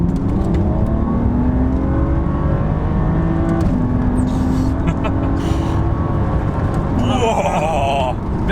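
A 2004 or 2011 BMW Z4 pulls uphill in second gear at about 30 mph, its engine a loud, sustained in-cabin roar rising in pitch, with talk over it.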